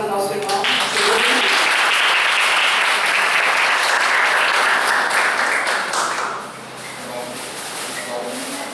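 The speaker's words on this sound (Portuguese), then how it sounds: "Uma salva de palmas para o nosso irmão." An audience at a Spiritist lecture claps loudly and densely for the speaker, the applause swelling, holding for several seconds, then tapering off into quieter room noise with some talk.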